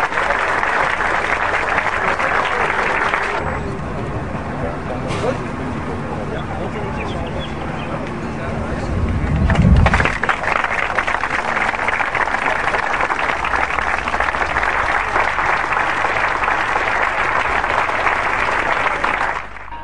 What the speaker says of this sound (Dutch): En mag ik daar u vast een medelijdend applaus voor, dames en heren